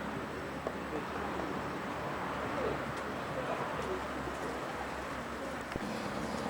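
Racing pigeons coo steadily inside a loft in Godalming, a dense, continuous bed of soft murmuring calls close to the listener, with faint voices present in the background.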